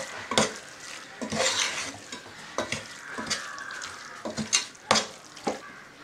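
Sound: stirring Kerala beef curry in a pan

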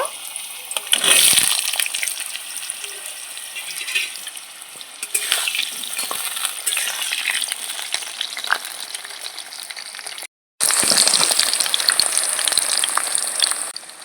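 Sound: potatoes frying in oil in a wok

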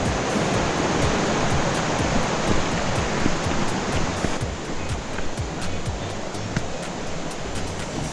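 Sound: Yuanjue waterfall on a hiking trail

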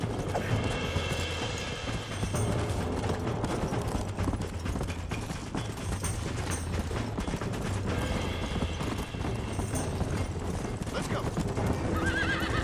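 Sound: horses galloping and neighing in video game Red Dead Redemption

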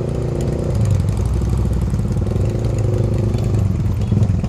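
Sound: motorcycle engine while riding at night

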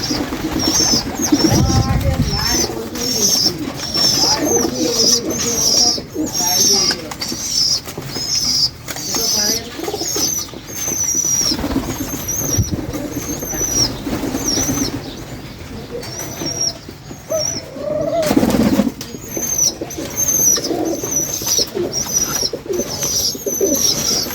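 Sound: pigeons cooing and flapping

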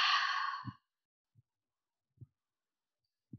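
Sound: exhaling forcefully through the mouth in yoga breathing

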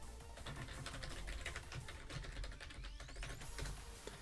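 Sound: typing login information on a computer keyboard

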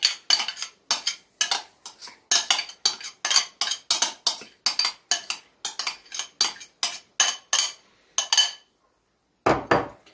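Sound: stirring sour cream garlic sauce in a bowl

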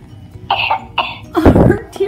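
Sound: Baby Alive Sweet Tears baby doll coughing

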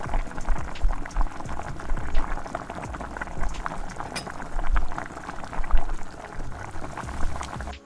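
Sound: marinated chicken poured into pan with fried spices, cooking

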